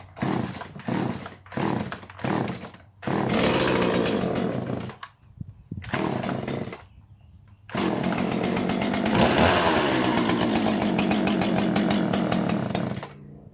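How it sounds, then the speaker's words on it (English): A stock Poulan chainsaw pulled over several times in quick bursts, catching briefly, then firing up and running with a loud, rough, steady engine roar that revs and settles, close to the listener. "She's what you call a stock standard saw"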